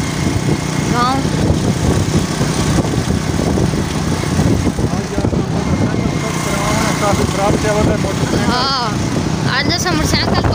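Motorcycle engine running continuously while riding from a village toward a city, a loud steady rumble with people talking over it throughout.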